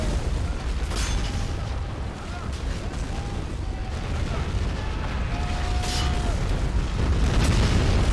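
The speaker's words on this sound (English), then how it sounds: "Anti-tank gun." Anti-tank gun fire in the video game Men of War Assault Squad 2, an Eastern Front 1944 battle: dull booms over a constant roar of battle noise, with a couple of sharper blasts standing out.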